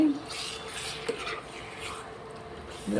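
A spoon stirs chicken liver and gizzard gravy in a pan with spices and a little water, soft scraping and swishing with a faint sizzle running continuously for a few seconds, close by.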